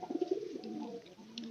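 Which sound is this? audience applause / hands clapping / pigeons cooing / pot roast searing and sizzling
pigeons cooing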